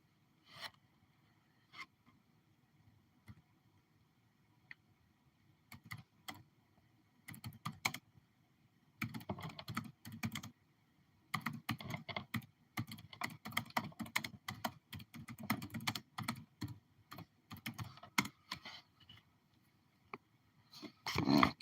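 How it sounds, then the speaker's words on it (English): Someone typing on a computer keyboard: sparse keystrokes early, then dense bursts of clicky typing with short pauses, close and fairly quiet. "we'll type it in here"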